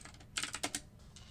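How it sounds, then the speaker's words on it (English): Computer keyboard typing at a live algorithmic trading setup: a short burst of four or five crisp key clacks in the middle, quiet and close, with faint ticks before and after. "I have people that are obsessed with the sound of my keyboard"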